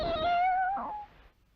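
A cartoon cat from a Hindi-dubbed Doraemon episode lets out a single drawn-out meow that fades away at the end, close and clear with no talk.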